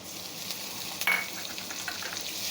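Black cumin, crushed garlic and green chili fry in hot oil with a steady close sizzle. One brief clatter lands midway as the ingredients go into the pan, and no one speaks.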